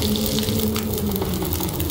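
Two liters of water melting over heat in the survival game The Long Dark: a brief, continuous close rush of running, bubbling water with no voices.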